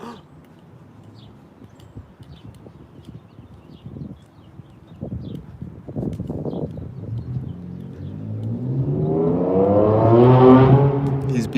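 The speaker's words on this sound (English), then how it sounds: "There's an engine sound right there." A car engine approaches from behind on a road, starting as faint low traffic rumble and swelling into a loud, rising engine drone that peaks near the end as the vehicle closes in.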